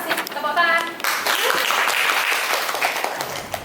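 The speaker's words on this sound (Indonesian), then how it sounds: "Tepuk tangan." Classroom applause at the end of a lesson, a burst of clapping from students that follows a brief voice at the start and continues steadily, moderately loud, before fading out.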